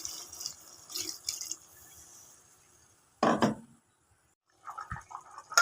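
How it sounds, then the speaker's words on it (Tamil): Water poured into a simmering mushroom curry pot, with small splashes and drips, a burst of pouring in the middle and light clinks of utensils, close and quiet, no speech. "நம்ம தண்ணி கொஞ்சம் ஆட் பண்ணிக்கலாம்."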